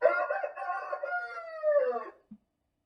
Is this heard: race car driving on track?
no